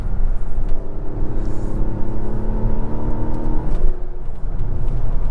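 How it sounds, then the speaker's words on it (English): Mazda CX-90 inline-six engine note under acceleration from inside the cabin, a steady loud drone with a rising pitch that eases off near the end, alone without talk. "That's a nice growl from the inline-6 too."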